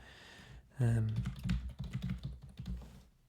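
Quiet keys clatter on a computer keyboard in a short burst of typing, with a voice speaking over the tapping.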